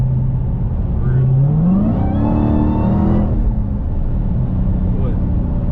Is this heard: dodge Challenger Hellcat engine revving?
yes